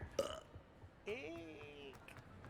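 Two burps from a character in a Harry Potter video game as Polyjuice Potion wears off. One short croak is followed by a longer, drawn-out burp, both close and fairly quiet.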